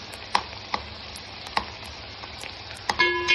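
Okra with sesame powder fries in a pan, a steady sizzle broken by several sharp spatula knocks and scrapes at irregular intervals.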